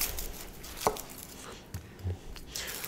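A Jikko bullnose knife, a 210mm blade, slices onions on a board, giving a few separate close, crisp cuts spread over a few quiet seconds.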